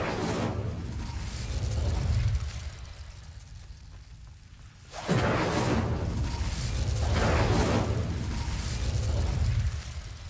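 Fiery Incendio spell blasts in Hogwarts Legacy, with a loud roaring burst near the start and another sudden whooshing blast around midway, then a sustained rushing roar that fades near the end.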